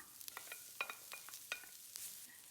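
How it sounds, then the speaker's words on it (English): Hot chilies, black pepper and green onions are stir-fried in oil in a pan, giving a quiet, close sizzle broken by quick scraping stirs and light clicks. "Stir fry to release the fragrance."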